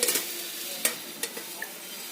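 Chapati cooking with oil on a hot griddle, a soft steady sizzle with a few faint scraping ticks, close and alone with no voices.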